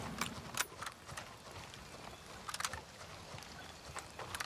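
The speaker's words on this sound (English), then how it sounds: "I hear footsteps." Footsteps in a video game, a string of fairly faint clicking and thudding steps in an irregular rhythm over a low background hum, with no talking.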